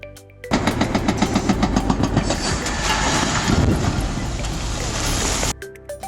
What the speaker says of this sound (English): With its powerful engine, this heavy equipment operated smoothly.